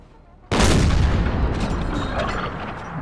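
A single loud, booming shot from an artillery piece in the Napoleon Total War video game, deployed on a hilltop crest and firing at infantry. It hits with a sudden blast, then a long rumbling decay.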